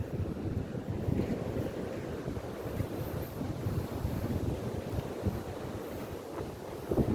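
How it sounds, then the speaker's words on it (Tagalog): Continuous rumbling wash of sea waves on a beach with heavy wind buffeting the microphone, dense and steady throughout, no voices. "Ayan, kung gaano kaganda yung dagat dito."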